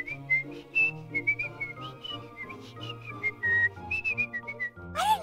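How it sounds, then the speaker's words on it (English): A person whistles a lively melody alone, with clear, rapid notes following one after another, ending in a brief rising squeal. "I didn't know you could whistle, that was great!"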